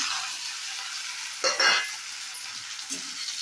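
Tomatoes frying in a pan after onions, a steady high sizzle with a couple of brief louder bursts of stirring near the middle and end, close and alone without voices.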